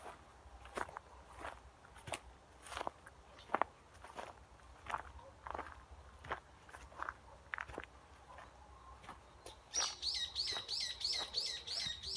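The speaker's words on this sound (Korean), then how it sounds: "새소리는 가장 아름다운 음악이고" Footsteps crunch along a quiet rural forest path at dawn, then a bird starts a quick run of bright, repeated chirps close by.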